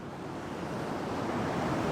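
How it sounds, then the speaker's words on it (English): Big ocean waves surge and crash along the coast on a lovely day, a steady, loud broadband roar of surf mixed with some wind noise across the whole stretch. "Got some more big waves coming in."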